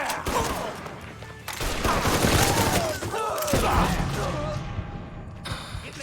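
A video game gunfight in Mafia 3 with dense, continuous gunfire and impacts mixed with loud game noise, while voices shout over the shooting.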